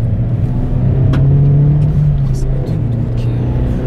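A stock Suzuki Swift Sport with no air box or exhaust modifications pulls hard on a country road, its engine drone loud and steady with a rising tone, cabin rumble underneath.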